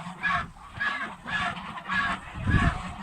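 Geese about five months old honking in loud, regular bursts, four or five close calls spaced about half a second apart, with no talk over them.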